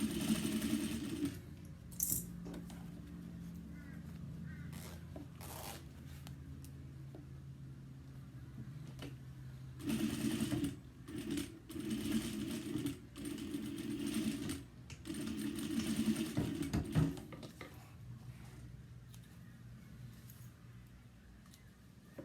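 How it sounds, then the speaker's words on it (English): A home sewing machine stitches a pocket lining, zipper and bag panel together with a quarter-inch seam, back stitching at both ends, while sewing a crossbody bag. The motor whirs in several close bursts of stitching separated by brief pauses, with no talk. "stitch your pocket lining and your zipper and your right panel together with a 1/4 inch seam"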